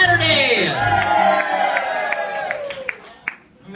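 A lively Saturday-night bar crowd at a piano bar on South Padre Island cheers, whoops and applauds for the piano man, a loud, sustained swell of voices and clapping that tapers toward the end.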